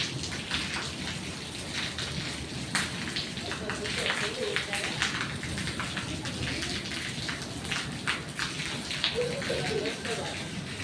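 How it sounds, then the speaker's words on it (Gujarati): Steady storm rain patters and hisses throughout in Mota Khutavada, with scattered louder drips, while a voice talks over it now and then. "અત્યારે વરસાદ ચાલુ જ છે"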